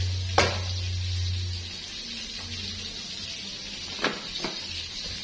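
Papaya being stir-fried with shrimp in a pan, a soft continuous sizzle with a few sharp scraping and clanking hits of a utensil against the pan, no talk.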